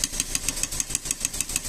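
Rapid, steady ticking knock from engine valves tapping, an evenly spaced metallic clatter riding over the running motor's low hum, close and clear with no talking.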